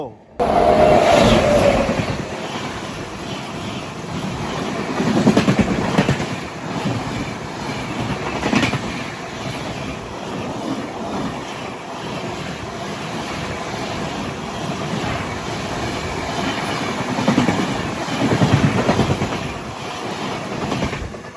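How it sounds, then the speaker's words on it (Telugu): The Sabari Express, running Secunderabad to Thiruvananthapuram Central, rushes past a moving train on the adjacent line in a long, loud roar of wheels and clattering coaches that swells and eases, with a voice speaking now and then. "మనకి ఇప్పుడు శబరి ఎక్స్ప్రెస్తో క్రాస్ ఓవర్ అయితే అవ్వబోతుంది"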